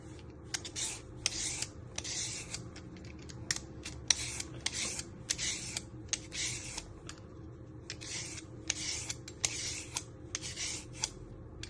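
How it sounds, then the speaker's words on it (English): Parsnips being peeled with a hand peeler, a steady run of short rasping scrapes in quick rhythmic bursts, close and fairly loud against a low background hum, with no talking. "You're first going to trim your ends. And you want to peel them."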